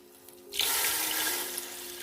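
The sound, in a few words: water poured into cooking pot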